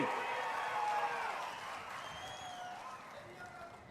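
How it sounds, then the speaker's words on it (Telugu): A crowd at a political rally about Amaravati as capital claps and cheers at a moderate distance, the applause swelling then fading over a few seconds. "అమరావతి రాజధాని వాళ్ళు గట్టిగా చప్పట్లు కొట్టి మీ హర్షాన్ని, ఆమోదాన్ని తెలియజేయండి."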